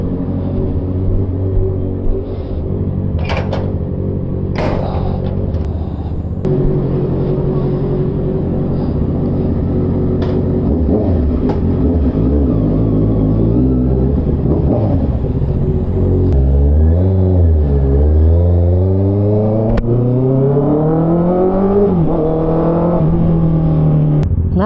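A Honda CB650R motorcycle engine, a steady loud close rumble that rises and falls through several revving sweeps as the bike gets underway, with no talking.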